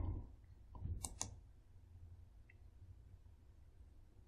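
A computer mouse clicking Save, a couple of quick, crisp clicks near the start followed by faint quiet room tone.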